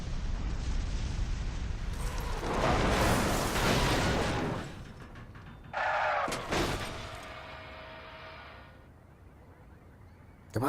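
Video game explosions roar loudly in a rolling burst, swelling and then fading, followed by a second sharp blast with a crackling tail that trails off into quiet.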